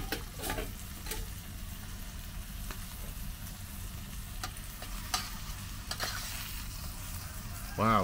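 Sausages fry on a Dave Canterbury PFM40 stainless steel pan, a steady soft sizzle with occasional pops and light scraping taps, close and fairly quiet, for a keto breakfast cooked outdoors.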